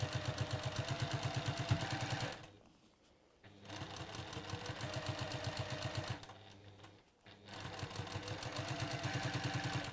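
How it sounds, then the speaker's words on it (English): Sewing machine stitching fabric trim, its needle hammering in a fast steady rhythm, briefly stopping twice and then restarting, close and loud with no talk. "So I'm just going to line that up and we'll just sew that on."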